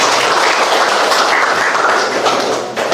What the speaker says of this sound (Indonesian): Tepuk tangan untuk masa bersih.